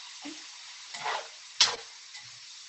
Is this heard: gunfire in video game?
no